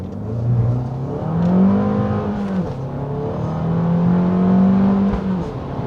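Abarth 695 Maserati Edizione with a 180 hp engine and robotized gearbox revving up and down close by, its engine note rising and falling in smooth sweeps with a few faint exhaust crackles.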